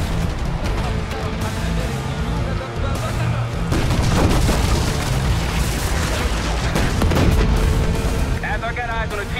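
T-72 tank cannon fire in Call of Duty Black Ops 6: heavy, loud booms over a dense, continuous rumble of battle noise that fills the whole stretch without a break.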